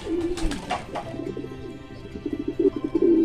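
Domestic racing pigeons in a loft give soft, throaty cooing, a few rolling coos early on, then a steadier burst of repeated coos near the end, close by with no talk.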